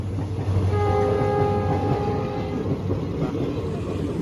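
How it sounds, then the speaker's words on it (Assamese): A train draws near while riders wait on an adventure motorbike by the tracks near Jorhat, giving a steady rumble with a sustained horn blast partway through, with no talk over it. "এইফালে ট্ৰেইন আহিবলৈ হৈ গ'ল"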